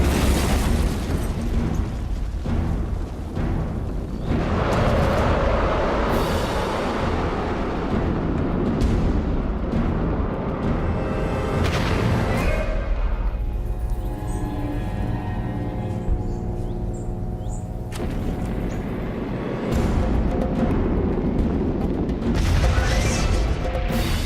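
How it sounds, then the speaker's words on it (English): A V2 rocket launch goes wrong and explodes, a continuous loud roaring rumble with bursts and crashes that swell, briefly steady into a hollow drone, then surge again. "The rockets are supposed to take off and fly along the coast, but launches often go dangerously wrong."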